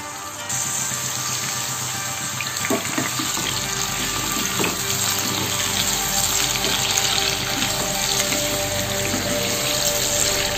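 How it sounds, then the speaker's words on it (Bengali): Potatoes and pointed gourd fry in hot oil in a pan, giving a steady sizzle with occasional stirring clatter, close and continuous with no talking. "আপনি চাইলে আলু পটল একসাথেও ভাজতে পারেন"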